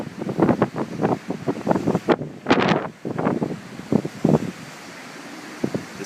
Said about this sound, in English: Waves in the street.